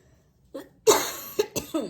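A person gives a few short, sharp coughs close by, in a quick burst of three or four hacks.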